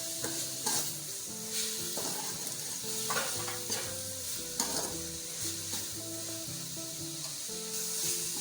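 Minced meat fries with two whole dried red chillies for aloo qeema, giving a steady close sizzle broken by repeated spatula stirs and scrapes, with soft tonal music running underneath throughout.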